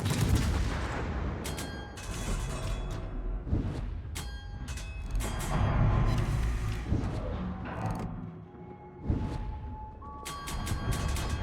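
Naval guns boom repeatedly in the game World of Warships, aboard the tier 10 Italian cruiser Napoli, with loud overlapping salvos and explosions over a constant rumbling battle background.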